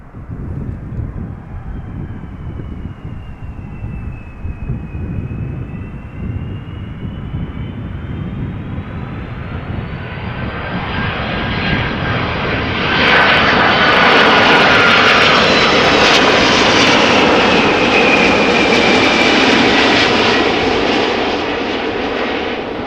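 A 19-year-old Airbus A330-300 jet arriving at Amsterdam Schiphol Airport, its engine whine falling and then rising, growing into a loud, close roar that peaks midway and stays strong to the end, with no voices.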